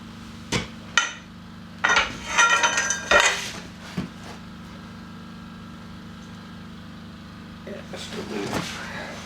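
A torque wrench is cranked tight on a Series Land Rover during restoration, giving a few sharp metallic clicks and clanks close by, with a brief cluster of ratcheting bursts and then quiet.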